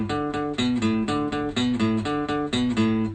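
Chugging electric guitar power chords with a moving bass line, steady rhythmic strums repeating in a loop, loud and close with no voices.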